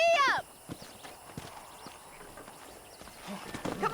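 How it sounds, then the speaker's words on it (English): A horse whinnies briefly in Red Dead Redemption, then hooves clip-clop at a steady pace, with a short voice near the end. "I picked out a fine horse for you."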